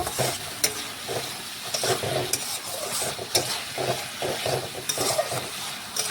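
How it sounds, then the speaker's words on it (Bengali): Pre-fried potatoes are stirred into spice masala in a pan for a katla fish curry, with rhythmic spatula scraping and shuffling over a continuous close sizzle. "আলু ভেজে রেখেছিলাম সেগুলো মশলার সাথে দিয়ে দেখুন আবারও একটু নাড়াচাড়া"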